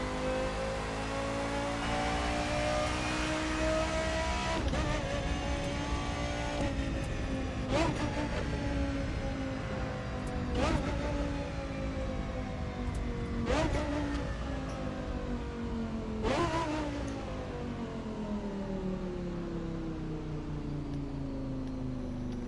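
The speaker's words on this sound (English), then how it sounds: "it's actually considered by a lot of people the most unique V10 engine sound ever" A Porsche Carrera GT V10 engine in The Crew 2 revs up and down repeatedly over about twenty seconds. Each rise in pitch is followed by a sharp drop, all loud and steady, with no talking.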